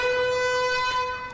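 A sustained siren-like alarm tone plays back in a horror-themed video, steady and fairly loud for just over a second with no voices over it.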